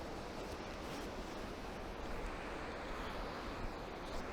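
A waterfall on the Ingleton Waterfalls Trail in Ingleton pours in a constant broadband rush, loud and close without pause, with some wind buffeting the microphone and no talking.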